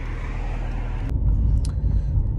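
A 2020 Mercedes-AMG C43 with a performance exhaust rumbles steadily, deep and close, swelling slightly louder partway through with a brief sharp crackle.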